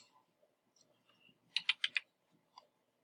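Quick bursts of typing on a computer keyboard, a short cluster of four or five keystrokes with a few scattered lighter taps, faint and close in a quiet room.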